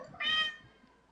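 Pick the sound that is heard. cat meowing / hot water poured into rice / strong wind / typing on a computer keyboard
cat meowing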